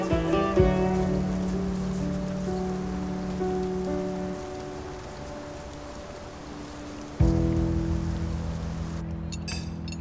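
Steady rain pattering on surfaces, a continuous wash of drops that stays loud throughout, with a sustained musical tone running underneath.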